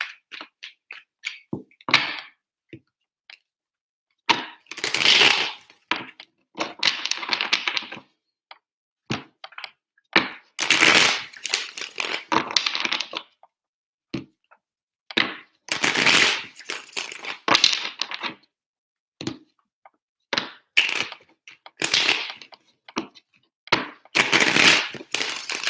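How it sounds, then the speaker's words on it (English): Tarot cards are shuffled by hand in repeated crisp bursts of riffling and slapping, separated by short silent pauses, close and fairly loud with no voice over them. "Three shuffles for Aquarius."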